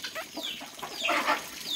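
Chickens, including a chick, being fed corn in a farmyard cluck and peep in quick overlapping calls, fairly close and continuous with no talk.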